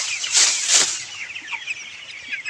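A flock of 22-day-old chickens clucks and peeps, with a few louder close calls early on, then a continuous chorus of softer, overlapping chirps.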